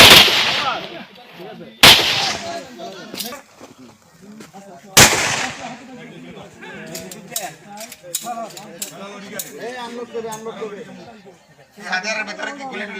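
Bangladesh Police officers firing pistols at a shooting range: three sharp, loud shots spaced a few seconds apart, with people talking in between and small mechanical clicks.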